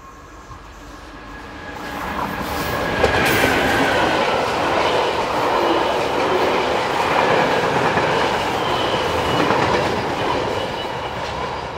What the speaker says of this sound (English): 27036 was heading the next train to appear just 5 minutes later, this time with a southbound working of new rails